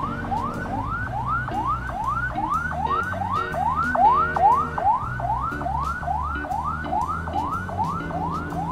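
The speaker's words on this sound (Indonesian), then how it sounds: "Oh, ada ambulan guys." An ambulance siren wails up and down in steady repeated cycles, loud and close, over rumbling road traffic and motorcycle engine noise.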